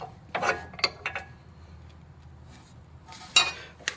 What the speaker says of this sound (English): I'm going to go ahead and remove that bolt